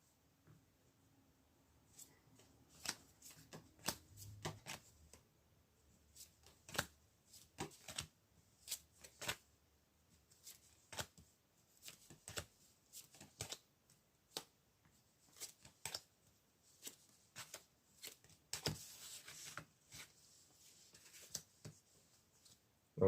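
Tarot cards being shuffled and drawn, heard as soft, close papery flicks, slaps and riffles coming in irregular bursts. They stay faint and quiet throughout, and no voices can be heard over them.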